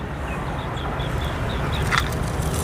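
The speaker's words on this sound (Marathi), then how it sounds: "पक्ष्यांचा आवाज येतोय।" Birds calling beside the Arjuna river in the Konkan: a faint series of short, evenly spaced chirps rising over steady, loud outdoor background noise.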